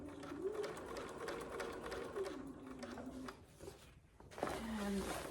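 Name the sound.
sewing machine stitching fabric bag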